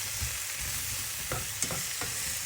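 Mushrooms sautéing in beef fat in a pan, a steady soft sizzle broken by a few quick scrapes and stirs, close and fairly quiet with no talking.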